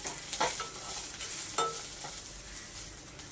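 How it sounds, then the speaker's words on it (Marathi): Chicken rassa masala with coriander is roasted in a pan, a spoon scraping through it in a couple of distinct rough strokes over a soft, low sizzle, close and without talk. "हे सगळं आपल्याला छान असं भाजून घ्यायचं आहे"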